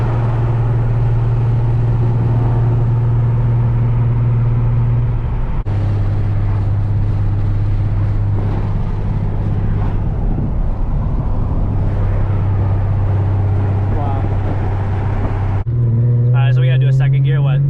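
A Nissan 370Z Nismo with a retuned engine accelerates hard while driving, its loud steady exhaust drone rising through a gear change, heard from inside the cabin with people talking over it.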